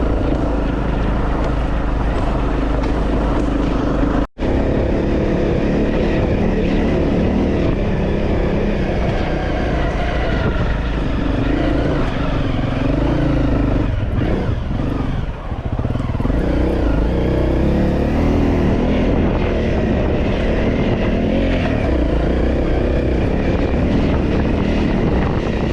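A motorcycle engine labours up a steep trail through old forest on the Ho Chi Minh Trail, a loud, continuous close drone with shifting load and rev changes and a brief cut near the start.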